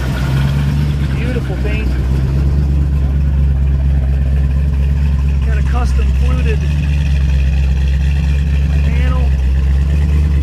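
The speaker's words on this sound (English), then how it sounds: "She's a runner, got a nice rumble." A 1969 Volkswagen Beetle fitted with a V8, quad-tip exhaust and wheelie bars rumbles steadily at idle, a loud continuous low drone throughout while someone talks over it.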